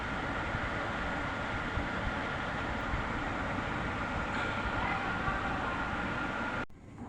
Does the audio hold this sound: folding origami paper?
no